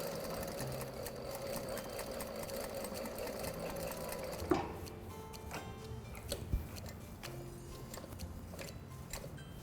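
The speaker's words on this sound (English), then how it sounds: "you just want to sew quite close to the edge" A sewing machine stitches close to the edge of a frilled scatter cushion, a quiet steady whirr for several seconds, then stops, followed by faint handling clicks and taps.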